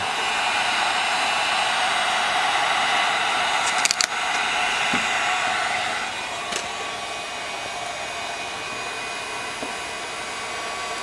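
A heat gun blows steadily while warming tint film onto a 2018-2023 Mustang tail light, a loud close airy whoosh with a few small clicks, easing slightly quieter midway.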